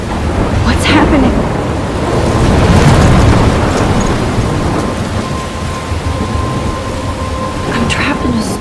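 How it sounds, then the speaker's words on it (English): A thunderstorm in Life Is Strange, with heavy rain pouring steadily and loud rolling thunder swelling and fading, plus a few sharp crackling bursts, close and intense throughout. "I'm trapped in a storm?"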